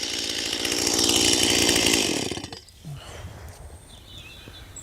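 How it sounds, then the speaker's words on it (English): A Greenworks 60V cordless 16-inch chainsaw runs loudly, then cuts off to near silence with faint background sounds, showing how quiet the idle cordless saw is. "both chainsaws are currently waiting to work"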